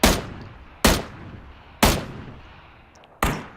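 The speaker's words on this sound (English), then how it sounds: "Then I hear the gunshot" Four sharp rifle shots ring out in the PUBG battle royale game, irregularly spaced. Each is a loud crack that trails off in a short echo.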